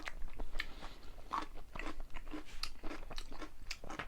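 Garlic and kimchi crunched and chewed up close, with irregular crisp bites and wet mastication sounds repeating steadily across the few seconds, no talking over it.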